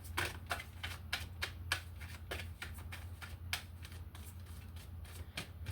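An angel oracle card deck is shuffled in quick riffling bursts, a steady rhythm of soft papery flicks repeating close by with a low hum underneath.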